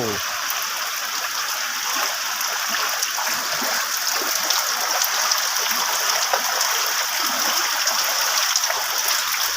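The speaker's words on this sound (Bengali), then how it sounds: "দেখেন দেখেন, আপনারা দেখেন কি পরিমাণ বৃষ্টির পানি যাচ্ছে এদিকে" Heavy rainwater flows steadily past a house during a downpour, producing a continuous loud rushing and gushing wash like a stream that holds constant throughout.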